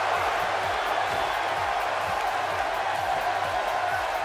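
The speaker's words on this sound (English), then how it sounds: "what about this crowd reaction" Arena crowd noise from the WWE 2K18 video game at a WrestleMania women's match, a steady broad roar of cheering that holds at an even level throughout, with no break and no voices standing out on top.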